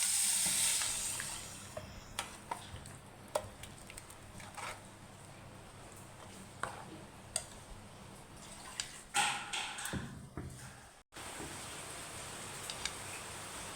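Ground paste added to a prawn curry bubbling and simmering in a pan, a continuous low hiss and sizzle with scattered pops and bubbling splutters, moderately quiet and unaccompanied by talk.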